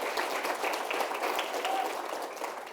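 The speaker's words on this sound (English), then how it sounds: "it would be great to just give them a round of applause" Steady applause from a CRO summit audience, a dense wash of many hands clapping at an even level throughout, with no gaps or voices.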